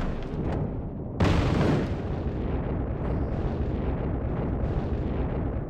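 A Sherman tank takes a hit in a World War II game near St. Lô, a sudden heavy blast that booms loudly and then rumbles away with lingering battlefield noise.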